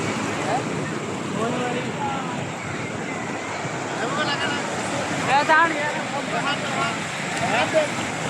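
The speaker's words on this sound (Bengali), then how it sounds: "এই যে কত বড় বড় ঢেউ" Big ocean waves roll onto the beach at Cox's Bazar, making a continuous windy roar of surf. Voices chatter faintly over it.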